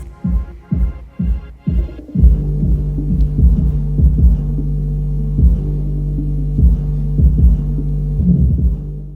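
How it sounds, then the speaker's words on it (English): A 12-inch ported subwoofer pumping deep bass inside a garage, with loud rhythmic thumping and a sustained throbbing low hum. Surrounding objects audibly rattle and buzz with each beat. "this subwoofer is rattling everything in the garage"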